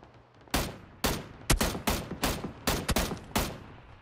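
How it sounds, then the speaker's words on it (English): Rapid gunfire in PUBG (PlayerUnknown's Battlegrounds), loud, close bursts of shots in an uneven rhythm, roughly ten sharp cracks over a few seconds with brief gaps between them and no voices. "Guy to my right shooting at me."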